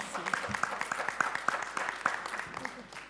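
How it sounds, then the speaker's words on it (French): Audience at a medical conference session applauds, a steady run of separate claps heard close, with talk mixed in and some background hum underneath. "Moi, je propose, c'est exceptionnel, hein, mais on va applaudir Kbal Matmata."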